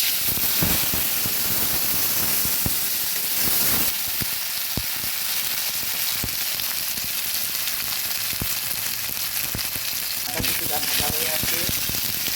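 Ginger paste hitting hot oil with panch phoron, ash gourd and prawns, a loud constant frying hiss with crackles and scraping stirs throughout, with no talk.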